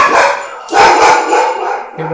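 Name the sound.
dogs barking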